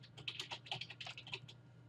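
Rapid typing of a search term on a computer keyboard, a quick run of close, crisp key clicks lasting under two seconds with no voices.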